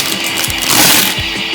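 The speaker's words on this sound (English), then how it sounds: "then we're just gonna grind everything together." An electric grinder whirs as it blends Moroccan pastry ingredients with white sugar, a close, steady mechanical grind that swells briefly midway, with no voices.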